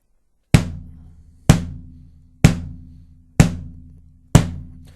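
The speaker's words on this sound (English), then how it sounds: "what does this bass drum sound like now that I've got that skin and the tuning" Five evenly spaced bass drum hits struck with a stick, each a sharp thump followed by a booming, ringing decay, played alone with no talking.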